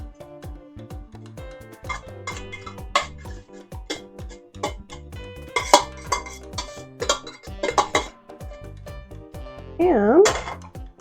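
Cooked beef empanada filling scraped and spooned into a pan in a kitchen, giving irregular metallic clinks, taps and scraping knocks of utensil against cookware, close and moderately loud.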